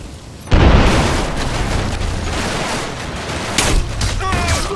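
A sudden loud explosion bursts in Crysis Remastered, a sharp boom followed by a sustained rumbling roar and debris, with a second burst later and a voice briefly speaking near the end.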